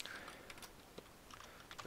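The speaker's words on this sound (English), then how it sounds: "I got some terrible typing at the moment." Soft, irregular clicks of typing on a computer keyboard while writing Python code, quiet and close, with uneven bursts of keystrokes and no talking.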